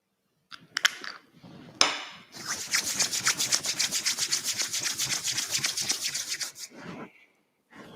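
Oil rubbed briskly between two palms, a close, steady rhythmic swishing after a couple of brief taps, during a Sunday morning yoga session.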